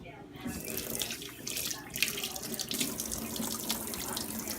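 Running tap water pours steadily into a sink while cow foot, soaked in vinegar and lime, is washed under the stream, with a continuous hiss and splash throughout.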